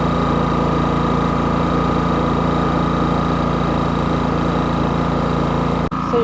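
A Champion 4500-watt dual fuel inverter generator runs in eco mode, a steady close engine hum with a fixed tone and light vibration, uninterrupted apart from a brief click near the end.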